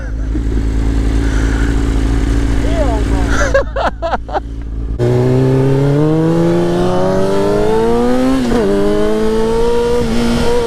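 A fully modified superbike engine revs loud and close, its pitch sweeping up and down as the bike rides, with a brief break in the middle before the engine roars on again; people talk over it.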